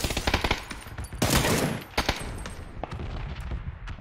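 Gunfire in the battle royale game PUBG: rapid automatic bursts and sharp single shots crack close and loud, with a brief heavy volley in the middle and scattered shots after.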